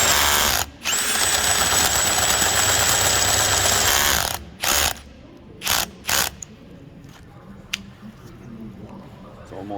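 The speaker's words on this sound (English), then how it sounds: "you can see that it can drill it through" A Ryobi One+ HP PBLDD01 cordless drill bores with a 13/16-inch bit, its clutch set to 20: a loud, steady grinding whir for several seconds, then ratcheting clutch bursts and short spin-ups, close by.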